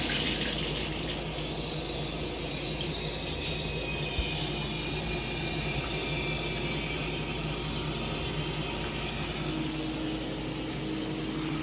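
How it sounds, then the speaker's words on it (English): A shower runs steadily in a bathroom, giving a constant close hiss of spraying water with a faint mechanical rattle, and no voices. "I'm just trying to get the shower on."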